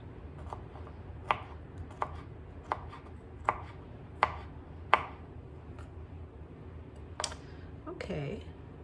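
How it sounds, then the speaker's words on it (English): A knife mincing small garlic cloves on a cutting board for a mushroom stew, sharp evenly spaced chops about once a second that thin out toward the end, close, with talking underneath. "But we do want to mince up these little garlics"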